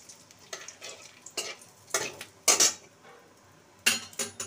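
Cumin, dried chili and bay leaf tempering crackle in hot oil in a wok, with a utensil stirring in several distinct scraping bursts over a quieter background sizzle.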